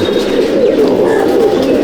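Pigeons coo steadily in a rooftop loft on a fourth-floor building in Mominpur, a low, continuous murmur of many birds close by with no voices.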